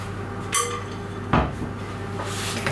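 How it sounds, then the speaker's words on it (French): Egg whites being folded into the dry powder for chocolate macarons, with a utensil clinking and scraping against a bowl twice amid a quiet kitchen background. "on va incorporer donc nos blancs à la poudre"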